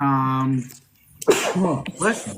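A single sharp sneeze bursts out after a sustained voice, followed by someone talking.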